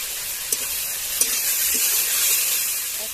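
Steady frying sizzle from chicken in a pan with ground cumin just added, a continuous close hiss broken by a couple of soft stirring clicks in a village-style dhaniya chicken dish.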